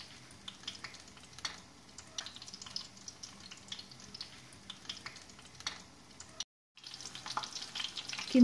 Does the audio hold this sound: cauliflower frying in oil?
yes